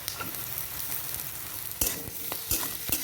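Potatoes and carrots fry in mustard oil in a pan, giving a steady sizzle with sharp scraping stirs near the end, close and fairly loud, no voices.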